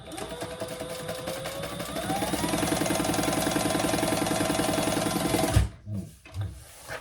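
A sewing machine runs a continuous top stitch across the top edge of a slip pocket on a messenger bag, a steady rapid needle rhythm that speeds up slightly midway, then stops abruptly, followed by a few faint handling knocks.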